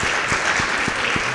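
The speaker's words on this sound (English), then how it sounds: "Can we have another round of applause for our panelists?" Audience applause for panelists after a university discussion event, a continuous, fairly loud wash of clapping with a few low thumps.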